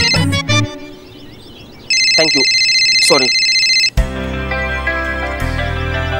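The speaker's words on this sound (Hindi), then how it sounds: "फोन किसका बज रहा है?" An electronic phone ringtone plays in repeated melodic tones, loud and near, with people speaking briefly before and around it.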